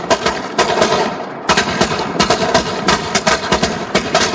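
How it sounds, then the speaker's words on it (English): A string of firecrackers thrown into a bush goes off in loud, rapid, uneven bursts of cracks and pops. A short pause comes early, then the popping continues densely to the end. "Steve, light the firecrackers and throw them in the bush."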